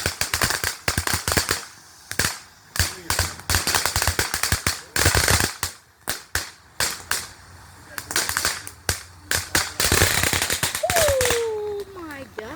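Fourth of July fireworks explode in rapid, loud volleys of sharp cracks and bangs, bursts crowding together in stretches with brief gaps, and a rising whistle near the end.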